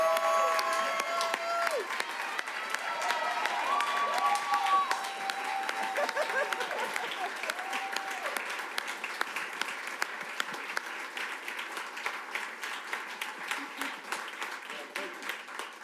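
Applause and cheering from a school board meeting audience honoring a school officer, sustained clapping with crowd noise for about sixteen seconds; a voice speaks briefly early on.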